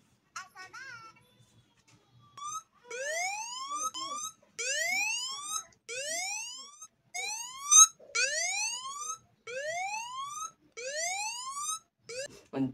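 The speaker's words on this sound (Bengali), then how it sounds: "তুমি ব্যতীত তোমার ফোন অন্য কেউ টাচ করলে ঠিক এরকমভাবে অ্যালার্ম বেজে উঠবে।" An anti-theft alarm from the Don't Touch My Phone app sounds on a phone, a series of rising electronic whoops and chirps repeated about ten times in quick succession, loud and close with no talking over it.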